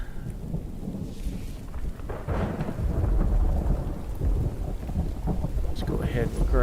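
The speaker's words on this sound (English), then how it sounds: "I pick a good rainy day to come and do this on" Steady rain on a gloomy day, a dense constant hiss and patter with low rumbling underneath, fairly loud and close, swelling slightly midway and continuing without any talk.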